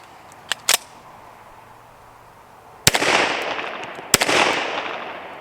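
Several gunshots from a Kimber Longslide Target 10mm pistol ring out at a range: two quick distant cracks, then two loud close shots with ringing echoes.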